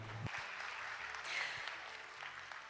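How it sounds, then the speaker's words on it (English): Audience at a world humanities forum applauds to welcome distinguished guests, a soft, even patter of clapping that swells briefly midway and stays fairly faint throughout. "please welcome them with a warm round of applause"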